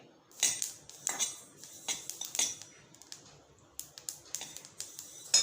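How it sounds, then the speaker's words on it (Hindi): Sesame seeds roast in a pan on low to medium flame, giving sharp irregular crackles and clicks in quick bursts against a quiet background, no talk. "ये तिल अब तड़कने लग गया है, देखिए।"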